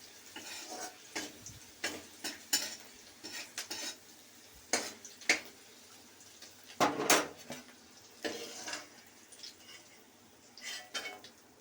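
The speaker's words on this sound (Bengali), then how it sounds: "আমি একটু সরু সরু কেটেছি তো, তাই জন্য আমি একটু নেড়ে নিলাম।" Thinly sliced vegetables are stirred in a pan for a Maggi noodle dish, with repeated scraping and clinking of a utensil against the pan in irregular bursts, close by, over a faint sizzle.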